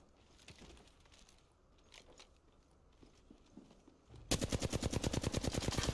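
Rapid automatic gunfire in the Apex Legends video game bursts out loudly after a quieter stretch of muffled in-game sounds, a fast, evenly spaced volley of close shots.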